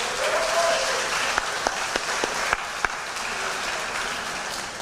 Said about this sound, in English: Let's give it a big round of applause one more time to our varsity wrestling team.